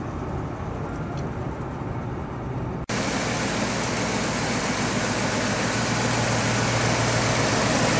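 A 1969 Ford Thunderbird with a 429 V8 engine idles, a steady low rumbling drone that starts abruptly a third of the way in after quieter ambience and continues loud and close, no talking.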